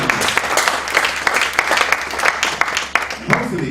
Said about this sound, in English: Big round of applause for Hassan